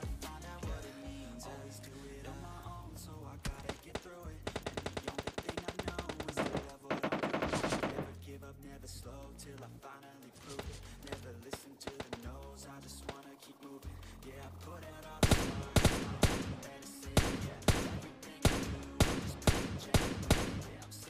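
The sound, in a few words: gunfire in PUBG Mobile Lite video game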